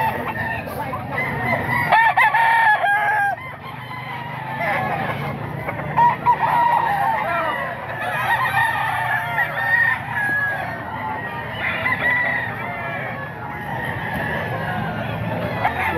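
Roosters crow repeatedly at a gamecock market at a grotto, with hens clucking and a busy crowd murmuring throughout, loud and close over steady background noise.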